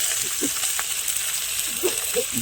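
Spices with ginger, garlic and chopped tomato fry in a pan outdoors after a fresh pond catch, giving a steady soft sizzle throughout with a few faint clinks of stirring.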